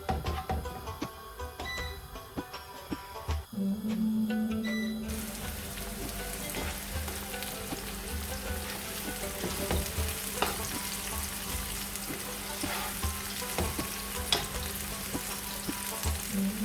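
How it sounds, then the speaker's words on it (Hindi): Onions frying toward brown for aloo choliya pulao, a dense continuous sizzle and crackle close up, with a steady hum underneath and no talk. "इसको हमने तकरीबन ब्राउन होने तक फ्राई करना है।"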